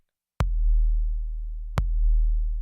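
Two deep, booming kick drum hits about a second and a half apart, sidechained with an 808 bass, each followed by a long sustained sub-bass tail; no voices.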